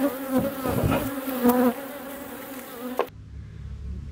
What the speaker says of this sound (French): récupération d'un essaim d'abeilles